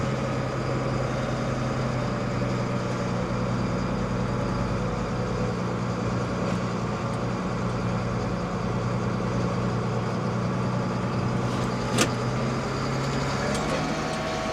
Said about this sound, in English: PTO is spinning.